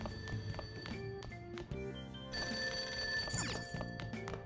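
Telephone ringing in the Persona 5 Royal video game, a bright trilling bell that rings in bursts over game sounds and music at moderate volume.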